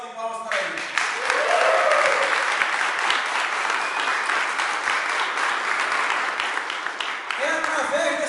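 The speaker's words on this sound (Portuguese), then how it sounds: "eu peço uma salva de palmas para ele." An audience at a launch event applauds loudly and steadily for several seconds. The dense clapping tapers off at the end.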